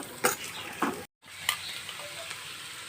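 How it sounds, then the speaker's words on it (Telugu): Onions fry in a pan after the chillies for gunta ponganalu, a constant sizzle broken by several spatula scrapes, with a brief gap before the frying continues. "ఉల్లిగడ్డ పోసి మనం ఇది కలుపుకోవాలి కొంచెం ఉల్లిగడ్డ కొంచెం ఉడకాలి"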